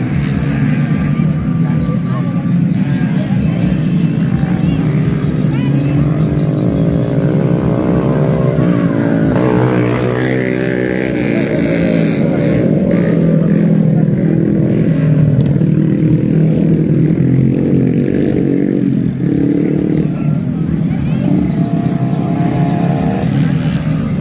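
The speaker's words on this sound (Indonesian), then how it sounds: "Lomba balap motor taksi gabah ini dilaksanakan oleh pemuda" Motorcycles racing in a grain taxi race in a village in Barru, heard as a continuous loud engine roar with revving, wind-like noise and background voices throughout.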